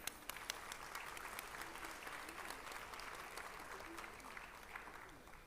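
A conference audience gives a sustained round of applause to welcome the eminent guests, a dense, even wash of many hands clapping that stays faint and distant throughout.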